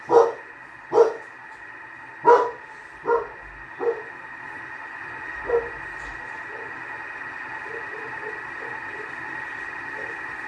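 A dog barks sharply six times in a kitchen, the loud barks spaced irregularly and fading, followed by a steady background hum with no further barking.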